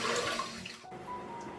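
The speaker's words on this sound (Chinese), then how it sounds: "先把这些鸡腿呢给它清洗干净。" Chicken drumsticks rinsed under a running kitchen tap, a steady close splashing rush of water over the meat, continuous through the short moment with slight shifts as the pieces are turned.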